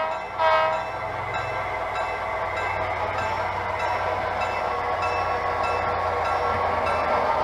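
Amtrak model train running on a model railroad layout, a steady rolling rumble with a sustained horn blast sounding over it for the whole stretch.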